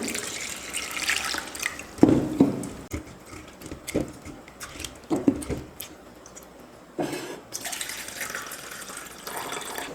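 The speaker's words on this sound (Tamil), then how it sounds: "இன்னொரு முறை தண்ணி சேர்த்து அலசிக்கிறேன்" Water splashes and swishes in a bowl with intermittent pouring and sloshing bursts, fairly close, no talking.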